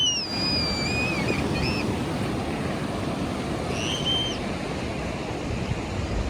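Ocean surf rolling onto a San Diego beach, a steady broadband wash of breaking waves with wind, and a few faint high bird calls above it.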